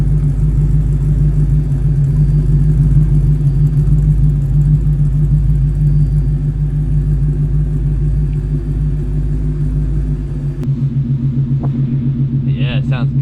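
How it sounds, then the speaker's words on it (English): A 2-valve V8 engine idling in a Mustang, a loud, steady low rumble with a throbbing pulse, close by, continuing with a brief shift in tone near the end. "I'll put up a 2-valve clip of it idling"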